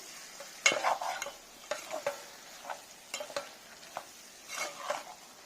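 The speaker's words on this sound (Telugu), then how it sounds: "అదంతా కలిసేట్టు పైకి కిందకి ఒకసారి కలుపుకోవాలి" Spoon stirring fish pieces in a Godavari-style fish curry in a pot, soft scraping and wet swishes in several separate strokes with faint sizzling underneath, close and fairly quiet, no talk.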